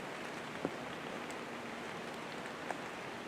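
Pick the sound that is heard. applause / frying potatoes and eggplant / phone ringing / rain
rain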